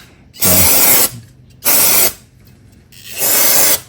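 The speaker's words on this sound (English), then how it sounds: "So I'm just going to spray it with some brake clean." Three loud hissing bursts of brake cleaner aerosol during a Toyota RAV4 transfer case oil change, each about half a second to a second long, separated by short pauses, close up.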